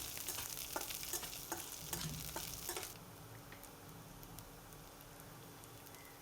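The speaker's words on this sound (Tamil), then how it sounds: "இப்போ எண்ணெய் கொதிச்சோன்னா அதில் வெந்தயம், இஞ்சி, பூண்டு ஆட் பண்ணிட்டு மிக்ஸ் பண்ணிக்கோங்க" Fenugreek, ginger and garlic hit hot oil for a Kerala Malabar fish curry and crackle sharply, with stirring scrapes. The sizzle is loud at first, then settles into a softer steady fry.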